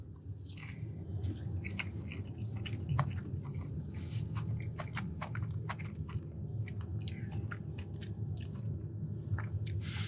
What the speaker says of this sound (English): the crunch has been removed from most of my tacos from sitting around, but a little bit left